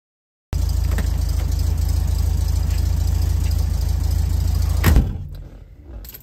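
A 1968 Volkswagen Beetle engine runs steadily at a loud, close idle with an even rumble, then abruptly cuts out near the end, leaving quieter background noise.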